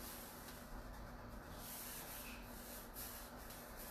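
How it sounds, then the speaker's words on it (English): A hand burnishes and rubs a scrap transfer onto wooden drawers, making a faint, continuous dry scuffing and rubbing sound with soft, uneven strokes over a low steady background hum. "And then just kind of burnishing and rubbing it on with my hand."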